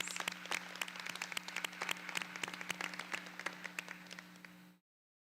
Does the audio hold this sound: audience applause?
yes